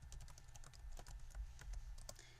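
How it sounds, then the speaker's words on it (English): Fingers type on a computer keyboard in quick, uneven clicks, close and soft over a low background hum, with no voices. "And when I type it and hit enter,"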